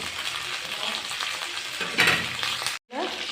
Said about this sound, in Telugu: పులిహోరకి పల్లీలు, తాలింపు గింజలు, కరివేపాకు వేసి వేయించుకోవాలి.